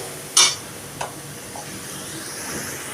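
Spices with ginger being stirred and fried in oil in a pan, a low steady sizzle with a sharp scrape or clank of the spoon early on and soft stirring sounds after.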